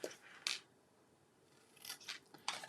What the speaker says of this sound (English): And then we're going to cut up to the score line.